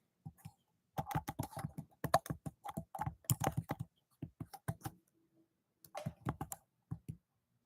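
Keys clatter on a computer keyboard as a web address is typed, quick bursts of clicks separated by short pauses, close and alone.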